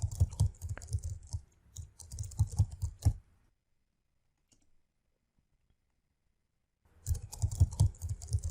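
Keyboard typing while writing in Microsoft Word: bursts of close, rapid clicking keystrokes, a pause of about four seconds, then another run of clicking.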